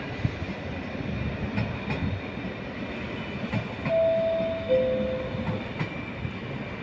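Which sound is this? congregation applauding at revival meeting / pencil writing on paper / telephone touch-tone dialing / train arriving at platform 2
train arriving at platform 2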